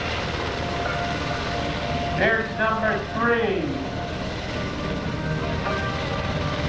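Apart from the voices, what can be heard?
UH-60 Black Hawk helicopter flying at airshow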